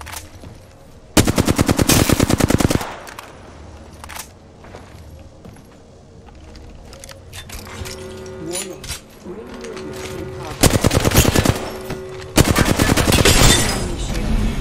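Rapid automatic gunfire in a fast-paced shooter video game comes as several loud, sustained bursts at the start and near the end, separated by quieter stretches of in-game ambience and scattered single shots.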